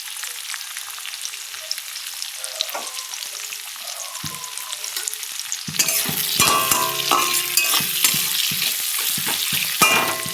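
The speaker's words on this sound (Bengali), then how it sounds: "পেঁয়াজটা একটু সামান্য সামান্য ভাজা হবে, একটুখানি নরম হবে" Chopped onions with green chilies fry in a pan, first a soft, sparse crackle and then, about halfway through, a much louder and denser sizzle with clattering stirring strokes, close up and without speech.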